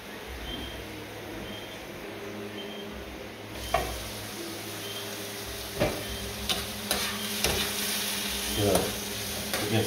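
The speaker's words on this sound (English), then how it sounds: "I'm just going to sweat this off for a couple minutes" Vegetables sweat in a hot pan for a tomato sauce, a steady close sizzle with occasional scraping stirs and clicks of the utensil.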